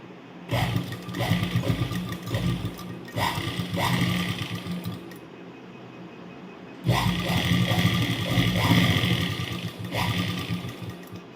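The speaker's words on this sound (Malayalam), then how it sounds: "ഇനി നമുക്ക് ഇതിൻ്റെ ഈ രണ്ട് സൈഡും ഒന്ന് തയ്ച്ചു കൊടുക്കാം" Sewing machine stitching along both sides of a fabric piece in a tailoring lesson, running in close, steady bursts with a short pause around the middle before stitching resumes.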